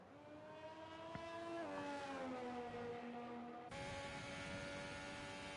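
An Alfa Romeo Formula 1 car from the F1 2020 video game runs out on the USA circuit, its engine note holding a steady high whine that dips, then jumps sharply with a gear change, continuous and fairly quiet throughout.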